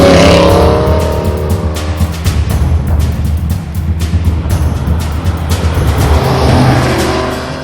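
Aston Martin DB9 GT and V12 Vantage S engines roar loudly under hard acceleration, a sustained deep growl with rising pitch and a slight fade toward the end.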